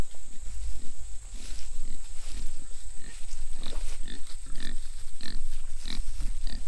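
Pigs on a farm grunting repeatedly in a rough, rhythmic series of low snorts, close and fairly loud, over a constant background hum with no talk.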